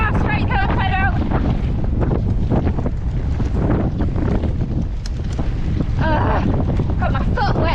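Strong gusting wind roars into an outdoor microphone, buffeting continuously throughout, with a voice speaking briefly under the noise.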